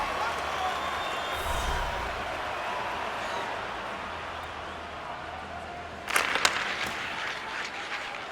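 A Buffalo hockey crowd roars at the arena during a 2025 Stanley Cup Playoffs game after goalie Luukkonen's blocker save. The sustained, distant crowd noise is joined near the end by a brief burst of sharper claps and shouts, with commentary voices faintly underneath.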